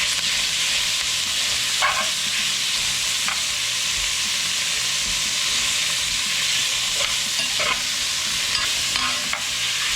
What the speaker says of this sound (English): we're going to take the bacon and we'll render out the fat